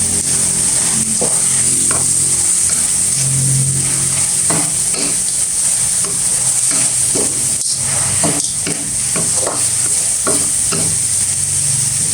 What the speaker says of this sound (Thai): ผัดให้แห้งเลยค่ะ